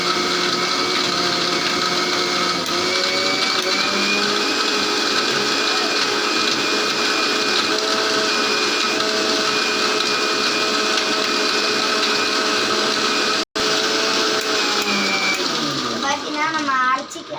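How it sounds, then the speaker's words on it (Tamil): An electric blender runs continuously, blending milkshake with sugar and ice cream, a loud steady whirring drone that cuts out for an instant near the end, then whines briefly as it winds down. "இப்போ நம்ம ஆன் பண்ணி நம்ம அரைச்சிக்கலாம்."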